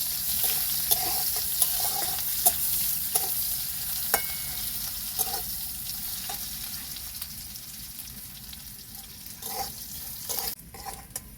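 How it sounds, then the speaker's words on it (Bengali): Onions fry on low heat with a steady gentle sizzle, punctuated by repeated rhythmic stirring scrapes and light spoon taps against the pan, close by, ending with a few louder clatters. "পেঁয়াজগুলোকে হালকা আঁচে ভেজে নেব।"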